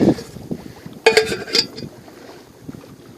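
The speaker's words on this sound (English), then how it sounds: "it feels good out here with the wind, honestly. Kind of glad it is windy." Gusty outdoor wind buffets the microphone in low rumbling bursts, with a brief sharper rush in the middle and faint clinks, during a wood gasifier stove test.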